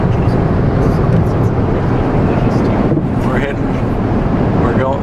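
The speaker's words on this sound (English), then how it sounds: "On the Autobahn with no speed limit." A car cruising at high speed on a German Autobahn with no speed limit, heard from inside as a loud, steady roar of wind and road noise, with a passing whoosh near the middle and faint voices mixed in.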